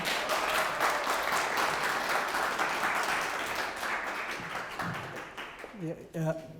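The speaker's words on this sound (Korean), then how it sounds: "자, 그럼 큰 박수로 맞이해주시기 바랍니다." Audience applause welcoming a diabetes specialist professor to the stage at a hospital health talk, steady clapping that thins out, with a voice speaking briefly at the end.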